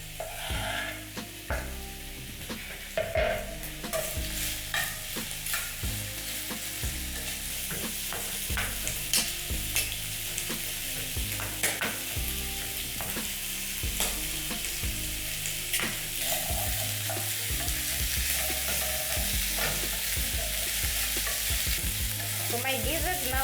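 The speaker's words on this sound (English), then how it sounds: "so now my gizzards are frying" Chicken gizzards frying in a pan with a loud, steady crackling sizzle, layered with ongoing clatter and scraping from stirring, heard close and alone for a long stretch.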